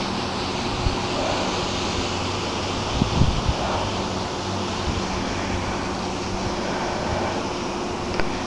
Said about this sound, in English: as you can tell, it's really, really breezy